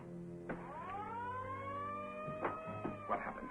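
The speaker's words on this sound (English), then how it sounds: "Yoga, that's the alarm" A shipboard alarm rings out loud and steady, its rising wail settling into a sustained tone with harmonics for several seconds, while brief voices and knocks break in over it.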